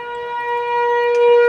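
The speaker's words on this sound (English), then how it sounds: "Testing the monthly siren." A loud tornado siren during its monthly test, a steady harmonic wail held close and strong, with no talking over it.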